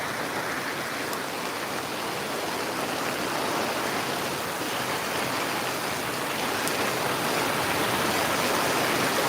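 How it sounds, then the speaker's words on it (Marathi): Heavy monsoon rain pours down in Virar, a dense, steady roar of rainfall that holds constant and slightly swells toward the end, with no voices. "बऱ्यापैकी मला वाटते की पावसाचा स्पीड आहे"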